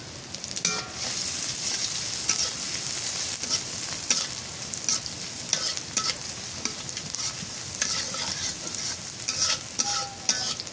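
Radish greens fry in hot oil in a home kitchen, giving a loud, continuous sizzle with scraping stirring strokes throughout; no talk.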